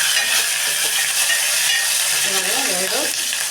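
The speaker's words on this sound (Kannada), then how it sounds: "ಇನ್ನು ಸ್ವಲ್ಪ ಫ್ರೈ ಮಾಡ್ಕೊಳ್ಳೋಣ" Green chillies fry in hot oil in a pan for a rasam, giving a steady loud sizzle throughout with faint stirring scrapes near the end.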